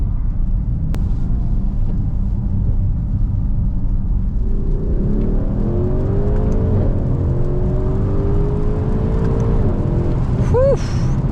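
A 500 bhp Mercedes GLC 63s accelerates hard on a rainy road, its deep engine rumble rising in pitch through the revs with a whirring drone, loud and close from inside the cabin.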